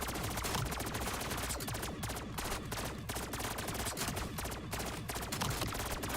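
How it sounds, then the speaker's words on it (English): Nonstop rapid automatic gunfire from a Black Ops 7 Zombies roguelike mode, a dense loud barrage with the trigger held down and no letup across the whole stretch. "I think I'll just keep shooting."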